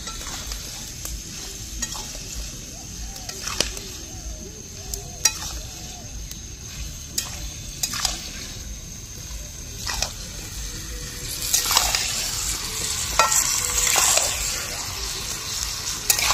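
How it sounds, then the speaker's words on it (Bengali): Duck meat with potato and papaya stir-fries in a pan, steady sizzling broken by repeated scrapes and clacks of a spatula, growing busier toward the end, close up with no speech. "মাংসটা আমি হালকা কষিয়ে নিয়েছি, তার সঙ্গে আলু আর পেঁপে এগুলোকে কষিয়ে নিয়েছি"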